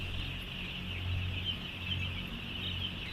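Chickens cluck and murmur in a large 500-square-foot poultry house holding close to 40,000 birds, a dense, steady flock chatter with no clear individual calls.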